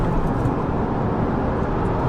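A 2022 Subaru WRX pulls hard up to speed, its engine and road noise forming a steady low rumble from inside the cabin for a couple of seconds.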